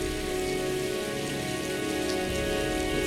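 Steady, dense rain from the video game Heavy Rain, a continuous close hiss of drops pattering on surfaces with a faint underlying hum, unbroken throughout with no talking.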